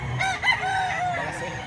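A rooster crows once at a chicken market in Lipa, Batangas, a near, loud, drawn-out call with a softer cluck at the end over faint background murmur.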